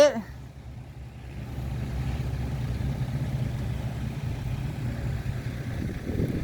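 A farm tractor engine runs steadily at a low rumbling drone, fairly constant and moderately loud after a brief sharp noise at the start, with no voices.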